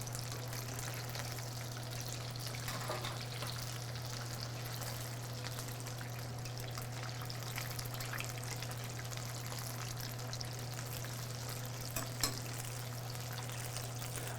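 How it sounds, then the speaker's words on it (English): General Tso's chicken deep frying in hot oil, a steady close sizzle and crackle running the whole time with a low constant hum beneath and a brief louder pop near the end. "One thing to know about frying, once things starts to float, that's usually when you know it's done."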